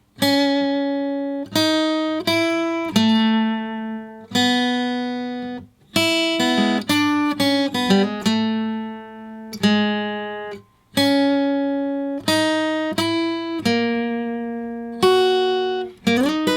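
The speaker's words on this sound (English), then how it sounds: "over top of that chorus section is a beautiful lead guitar line" Lead guitar line over the chorus of a song, played as clear single picked notes with ringing sustain in a steady melodic phrase, close and alone.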